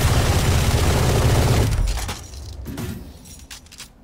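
A loud, rumbling explosion in the game Valorant booms and then decays into crackling debris and scattered sharp impacts, fading over a few seconds.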